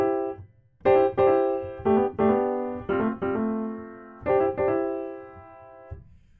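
Piano playing major-key chords in first inversion, each struck with a quick grace-note slide into the chord; several distinct rolled attacks ring out in an uneven rhythm, clear and close with no voice.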